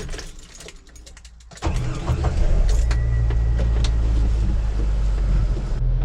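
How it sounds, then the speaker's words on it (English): A Jeep Wrangler engine, after a fuel pump replacement for rough idle, turns over and settles into a steady low idle, a deep continuous rumble with some mechanical clatter close by. "Okay, it's idling like it used to."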